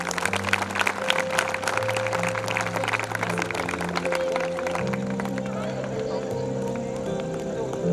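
Audience applause at a school event held with Allen Classes at Sri Kanwartara School: steady, dense clapping from a crowd running throughout, over sustained background music tones.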